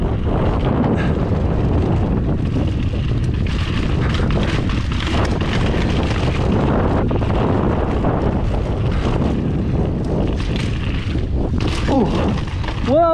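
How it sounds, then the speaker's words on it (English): Wind roars continuously into a helmet-mounted action camera during forest mountain biking on a ridge trail, a loud, unbroken rumble with brief tonal whistles near the end, while a rider's voice comes through faintly underneath. "I don't know if the wind is gonna be better today."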